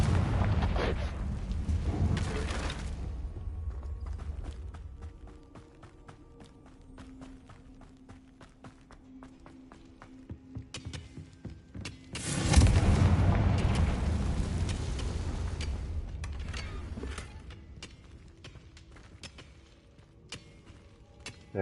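Confringo blasting spell explosions in the video game Hogwarts Legacy, two loud booming blasts with rumbling tails, one at the start and one midway, with footsteps and lighter clatter between them.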